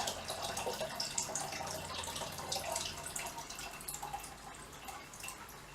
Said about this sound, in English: So, something to tip the water in, and then if we just tip it,